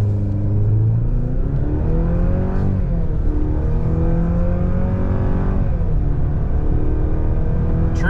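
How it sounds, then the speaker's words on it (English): A 2024 GMC Canyon Denali with the high-output turbo engine launching hard from a standstill to sixty, a loud interior engine roar rising in pitch through several gear shifts, constant and close with no talking. "0 to 60 in the high output Turbo Max Denali"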